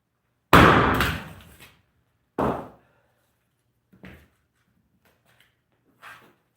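A hammer striking pieces of wood outdoors in winter while making mulch, four separate thuds spaced by pauses, the first loud and ringing, the rest quieter.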